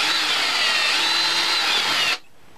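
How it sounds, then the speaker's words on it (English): A power drill bores a small hole with a loud, steady high whine for about two seconds, then cuts off abruptly into quiet. "I'm gonna drill a smaller hole right here in the center."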